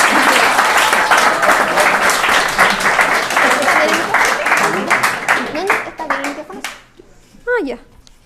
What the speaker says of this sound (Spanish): quiero que la recibamos con un fuerte aplauso a Sofía Barca